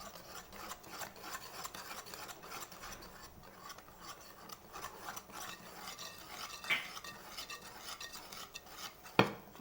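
Hands knead and rub yellow semolina flour with white flour in a bowl for basbousa, a soft continuous gritty rasping close by, ending in a sharp knock.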